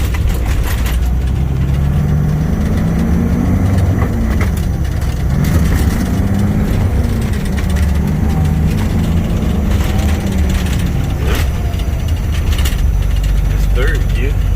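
An International cabover truck engine pulls in gear with a loud, steady low rumble and shifting whine, rattles and mechanical clatter throughout, recorded from inside the cab.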